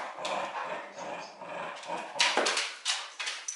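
Puppies whimper and yelp close by in a busy, noisy stretch, with a few sharper barks and cries near the end.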